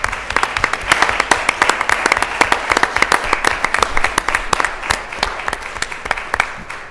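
An audience at a community forum breaks into steady applause, dense clapping from many hands sustained for several seconds, with faint voices mixed in.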